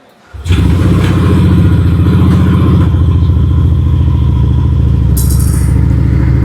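Yamaha NMAX V2 scooter engine starting after a coolant change, catching abruptly and then idling loud and close with a steady mechanical clatter.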